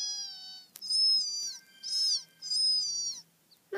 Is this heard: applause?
no